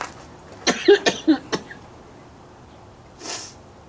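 A burst of several harsh coughs in quick succession, close and loud, followed after a pause by a single breathy exhale.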